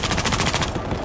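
Rapid bursts of automatic gunfire in Battlefield Hardline, dense and loud, firing continuously before cutting off near the end.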